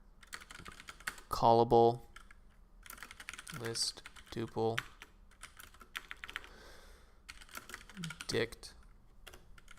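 Python code being typed on a computer keyboard, with bursts of quick key clicks between stretches of someone speaking as he works.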